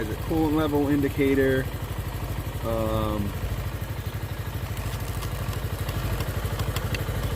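A 2006 Yamaha Morphous scooter engine idles with a steady, close putter, and a short voice passage is heard over it near the start.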